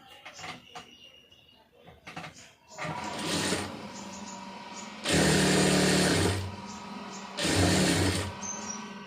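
A sewing machine stitches the folded hem of cigarette pants in two loud, sustained runs close by, after a rising start and some light clicking and handling sounds.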